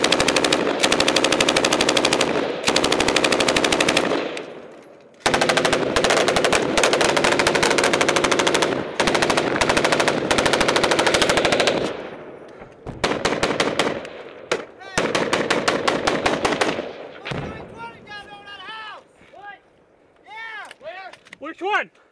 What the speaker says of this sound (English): I think they're shooting.